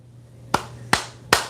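Three sharp, isolated claps spaced evenly about 0.4 seconds apart, close and crisp over a quiet room with a faint low hum, like a sound-effect button on a live stream.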